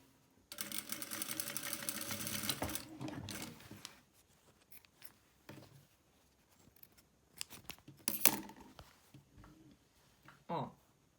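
A sewing machine runs in a steady burst stitching a fabric lining closed on a small zippered pouch, followed by a few short clicks and handling noises, heard close and alone.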